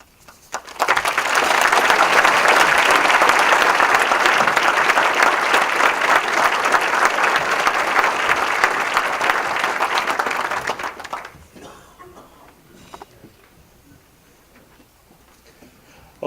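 Audience applause at an awards luncheon, a steady, dense wash of clapping from a large room that holds for about ten seconds, then drops off sharply to quiet room noise with faint stray sounds.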